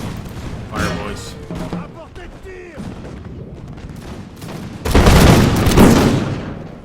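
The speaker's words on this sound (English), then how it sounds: "we can just get the perfect volley here" Musket volley in the strategy game Empire Total War with the Imperial Splendour mod: a dense, loud crackling burst of massed fire erupts near the end, after stretches of quieter battle noise and scattered shots.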